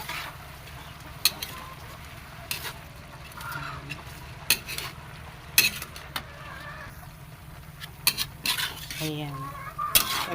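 Bean sprouts (togi) are stir-fried in a pan, with a soft steady sizzle punctuated by sharp clinks and scrapes of a utensil against the pan.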